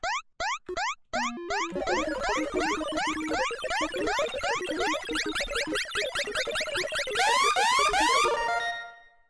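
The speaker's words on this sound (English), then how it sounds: "The alarm went off." Video game alarm blaring in a heist mission at the Casey Joint: rapid repeating rising electronic whoops that speed up and layer into a frantic, loud cacophony before stopping abruptly.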